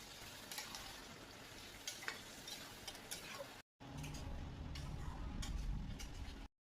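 Marinated meat fries with onions in a pan for Kolkata biryani, a steady close sizzle with scattered ticks and stirring scrapes, broken by one brief cut before the frying resumes louder.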